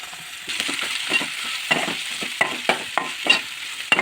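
Prawns fry with onion and green chillies in a pan, giving a continuous sizzle broken by repeated stirring scrapes and light clicks of a spatula against the pan.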